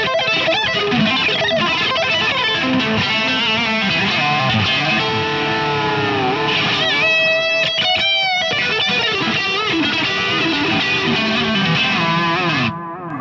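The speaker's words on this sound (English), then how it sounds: "I'm using a ton of distortion right now" Heavily distorted electric guitar played through a custom prototype tube amp voiced very bright, giving a loud, meaty, continuous tone with sustained chords and riffs from start to finish, cutting off abruptly near the end with no talking.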